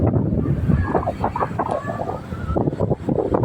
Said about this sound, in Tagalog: napakasarap ng simoy ng hangin